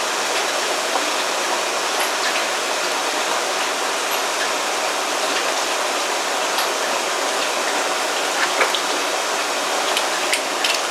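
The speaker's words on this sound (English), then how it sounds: "Now that's starting to boil" A pot of water for home canning comes up to a boil, giving a steady, close rushing and bubbling hiss with faint pops scattered through it, with no voices.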